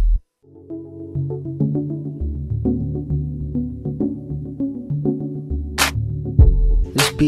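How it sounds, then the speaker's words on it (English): A simple mixed beat of a keyboard part with kick drum and snare drum, steady rhythmic hits with sustained keyboard tones throughout, ending in a couple of bright crashing bursts. "We only have a keyboard sound, a kick drum, and a snare drum."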